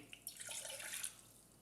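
Liquid is poured back into a container while soap is being made, giving a brief, soft splashing pour that tapers off, with no one talking.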